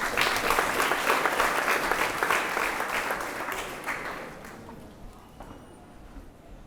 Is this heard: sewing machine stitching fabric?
no